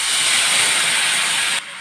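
Spiced potatoes frying in a pan with salt, coriander, cumin and turmeric give off a loud, steady steamy hiss as a splash of water hits the hot oil, easing off slightly near the end.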